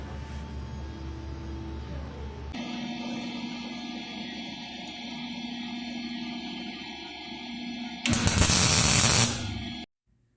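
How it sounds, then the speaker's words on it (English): Tack welding on a steel cargo bike frame tube: a steady buzzing arc with a hum runs for several seconds. A louder, harsher burst of crackle comes near the end, then it stops abruptly. "Three tacks to hold it into place, and then I'll put some solid beads all the way around to finalize it."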